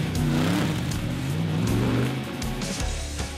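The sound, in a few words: Mercedes AMG GT3 race car driving laps on circuit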